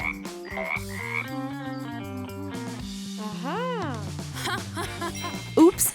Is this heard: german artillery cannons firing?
no